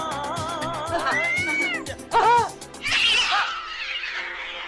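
Several cats meow and yowl in a run of drawn-out, rising and falling cries, loud and close, with talk and a laugh mixed in partway through.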